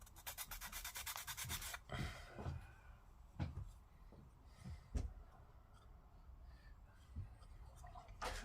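Hand sanding of small plastic parts from a Revell Star Wars Millennium Falcon 1:241 scale model kit: a quick run of close scratchy rubbing strokes, then sparse faint scrapes and light taps in a quiet room.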